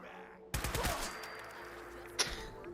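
Enemy gunfire in the video game Fallout 4: a sudden loud burst of shots sets off a dense crackling volley that stays up for a few seconds, then one more sharp crack near the end, over a steady game background.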